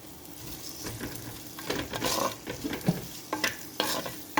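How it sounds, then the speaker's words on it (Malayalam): Sliced onions sauté in hot oil in a pan for Kerala-style pepper chicken, a steady close sizzle broken by several scraping stirs of a utensil, with no voices. "സവോള ഈ എണ്ണയിൽ കിടന്ന് നന്നായിട്ടൊന്ന് വഴണ്ട് വരട്ടെ"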